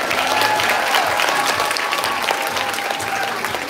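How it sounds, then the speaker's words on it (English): A crowd claps for very young players, under-fives and under-sixes, receiving medals. The applause is full and continuous, stays fairly loud throughout and eases off slightly toward the end, with no speech over it. "give them a big round of applause"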